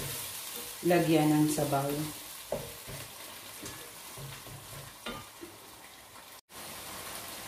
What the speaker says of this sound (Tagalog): And igisa-gisa lang po ulit natin bago po natin siya